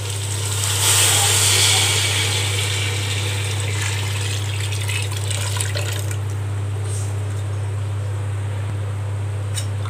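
Water pours steadily into a pot for mutton dum biryani, a broad rushing splash strongest early on and settling into a continuous even fill, with a constant low hum underneath.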